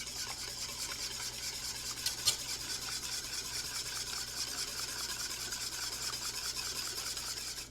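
A chocolate mixture being stirred in a bowl, heard as a steady, continuous rubbing and scraping close up, with one or two brief knocks of the utensil against the side.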